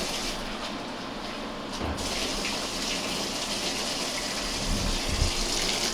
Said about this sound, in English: Now I'm gonna put them in cold water, run them in cold water a little bit, just to shock them.